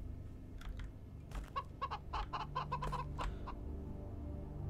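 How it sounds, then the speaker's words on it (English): Video game chickens cluck in a quick run of short, fairly clear calls that bunch together in the middle, over a steady low background hum, with no talking. "These chickens are great."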